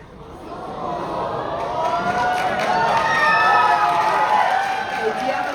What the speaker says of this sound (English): Can I get everyone sitting in the middle to cheer?